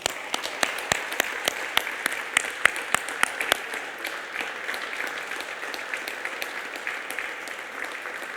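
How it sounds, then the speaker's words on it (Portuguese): Church congregation applauding at a communion service: sharp, dense clapping for about three and a half seconds, then a softer, steadier patter of hands continuing in a reverberant room. "Vamos dar uma salva de palmas para Jesus?"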